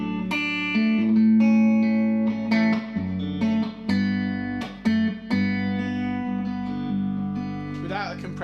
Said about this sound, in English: so listen to this with a compressor.